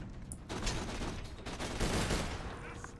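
Dense enemy gunfire in the video game Borderlands 2, a continuous loud crackle of rapid shots with scattered sharper bursts and no break.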